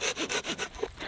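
An Outdoor Edge Flip n' Saw cuts through wood in quick, steady back-and-forth strokes, each rasping pass close and fairly loud, with no talking.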